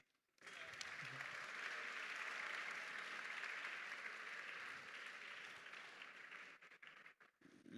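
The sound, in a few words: audience applause at public lecture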